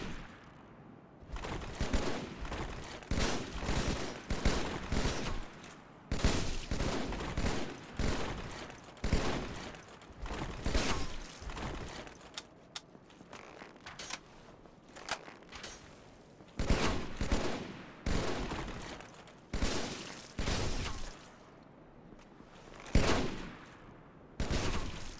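Rapid, repeated gunfire from guns in a modded Dark Souls Remastered game, 'Remastest', fired in dense bursts and volleys with brief pauses, loud and close throughout.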